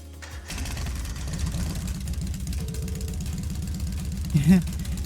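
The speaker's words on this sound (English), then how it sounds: "I'm going to start the engine now." Motorcycle with a sidecar in the video game Trails of Cold Steel, its engine catching and settling into a steady, rhythmic low idle that carries on for several seconds with a brief louder rise near the end.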